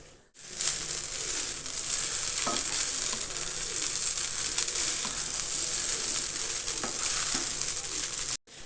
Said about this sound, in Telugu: ఊరికే ఇలా ఫ్రై చేస్తే కొద్దిసేపు సరిపోతుంది.